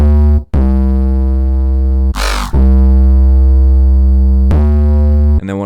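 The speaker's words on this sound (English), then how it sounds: "I'm bringing in this growl bass accent that sounds like this." Growl bass accent in a rage beat: loud, sustained distorted synth bass with dense harmonics, playing long held notes broken by a short gritty wobbling sweep in the middle and a brief break near the start.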